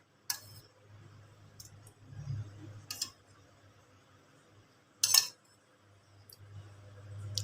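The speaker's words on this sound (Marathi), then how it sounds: "आता मी तीन चार चमचे दही घेतलेले आहे" Yogurt spooned into a pot for a mixed koshimbir salad: a few sharp clinks of a metal spoon against the vessel, spaced apart, over a low background hum, with no voices.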